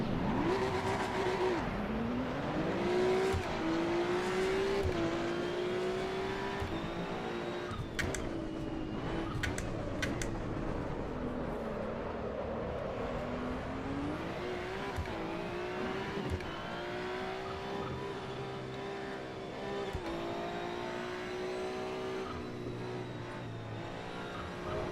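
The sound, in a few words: race car accelerating at full throttle in video game Assetto Corsa EVO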